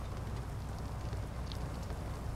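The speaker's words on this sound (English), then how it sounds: "And we have to deal with rain right now" Rain falling in American Truck Simulator while hauling logs to a saw mill, a soft steady patter of drops on the truck, quiet and continuous with no voices.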